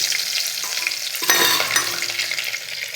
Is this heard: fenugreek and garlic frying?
yes